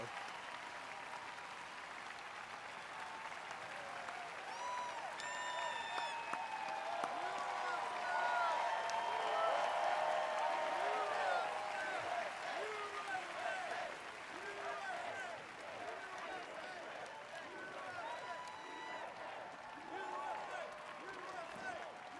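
A large outdoor crowd at a July 4th speech by Trump applauds and cheers steadily for over twenty seconds, a dense wash of clapping that swells in the middle and tapers slightly, with a voice speaking over it.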